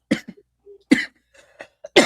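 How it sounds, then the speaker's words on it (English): Several harsh coughs spaced over about two seconds, close and fairly loud, with short gaps between bursts. "It's that medical cough, I'll call it."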